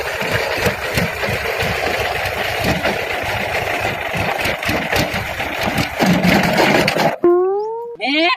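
A tractor engine runs with a steady, rough mid-range drone and vibration, close and loud, then cuts out abruptly near the end, leaving a few brief tonal sounds in the sudden quiet.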